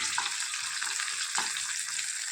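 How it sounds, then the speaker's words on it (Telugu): Green chillies frying in a pan, a continuous close hiss of sizzling oil with a few soft pops, heard on its own without any talk. "పచ్చి పచ్చిమిర్చిని ఈ విధంగా వేయించుకోవాలి చూడండి కొద్దిగా వేగినాయి"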